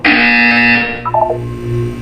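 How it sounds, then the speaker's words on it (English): A loud, harsh electronic buzzer from the video game Portal 2 sounds for about a second, then a short descending series of beeps follows, with a low hum underneath. "You will hear a buzzer."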